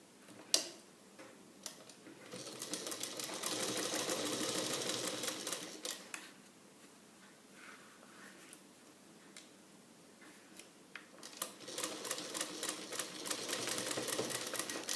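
Sewing machine stitching a shoulder seam with quarter-inch allowance, running in bursts of rapid ticking whir separated by brief pauses and light clicks, close and fairly quiet, no speech.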